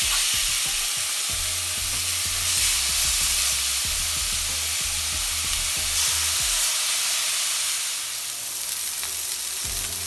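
Thin chicken pieces with paprika sizzle loudly on a grill, a dense steady hiss of frying heard up close for the whole stretch, with no one speaking.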